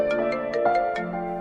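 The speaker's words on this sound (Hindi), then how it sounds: "एक सेकेंड, आर्यन का फोन है।" A mobile phone ringtone plays in a short melodic run of bright electronic notes at steady volume, alone without voices.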